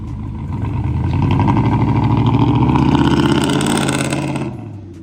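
A Ford F-250's 7.3 liter gas engine idles, then revs up into a loud, steady roar before easing back down near the end.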